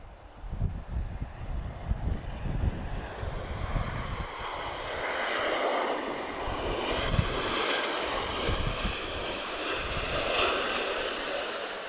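A Eurowings airliner operated by Avion Express arrives at Lisbon Airport, its jet engine roar swelling from a distant rumble into a steady, broad whoosh, with wind buffeting the microphone early on.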